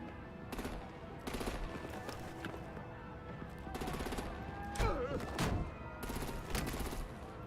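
Bursts of automatic gunfire rattle in the video game Batman: The Enemy Within, repeated rapid volleys separated by short gaps, loud and close, with voices and a thud in the middle of the action.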